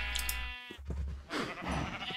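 Several sheep bleat in a Minecraft farm scene, short game-style bleats close by, with a brief gap and a burst of noisy clatter from other game sounds.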